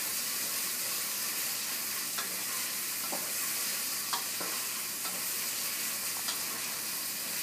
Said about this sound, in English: make sure all of the onions get coated with the oil